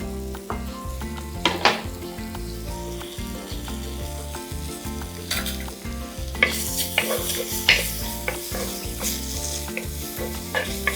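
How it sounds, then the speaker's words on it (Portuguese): Bacon frying over low heat in a pan, with a crackling sizzle and pops, while a utensil scrapes and stirs against the pan, close and moderately quiet. "Esse barulhinho do bacon picando é a melhor coisa que tem."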